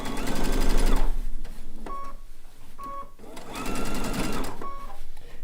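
A sewing machine stitches around the edge of a blue and white quilt top in bursts of rapid, loud mechanical whirring, with brief pauses and clicks between runs.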